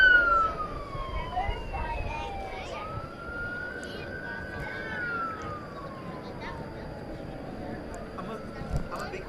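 Fire truck siren sweeping up and down as it responds at DFW Airport, moderately distant and rising again after a brief lull, with people chatting over it.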